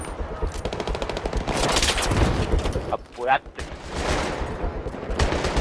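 Rapid bursts of Battlefield 3 co-op gunfire crackle almost continuously, with a brief lull midway, while people talk over the shooting.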